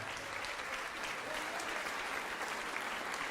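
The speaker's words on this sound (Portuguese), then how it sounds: "Vamos aplaudir mais ao nome de Jesus" A church congregation applauding during a worship service, continuous dense clapping from many people, steady and even across the whole stretch, heard at moderate distance.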